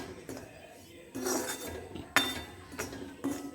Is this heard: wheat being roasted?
yes